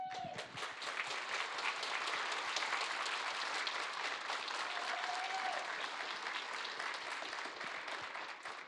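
Steady, dense applause from a large conference audience, many hands clapping continuously at a loud, even level from start to finish.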